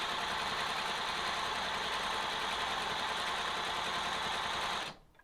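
A sewing machine stitches a felted and couched fabric project, running steadily and loudly with a fast mechanical chatter for about five seconds before stopping abruptly.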